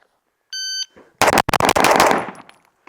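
A Race City Defense RC9 pistol fires a rapid string of six sharp, loud shots at close range, preceded by a brief electronic shot-timer beep.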